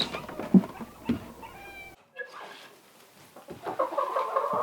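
Hens in a backyard coop during morning chores give a few short clucks and squawks up close, with a brief high call mid-clip and busy scratching and rustling noises building toward the end.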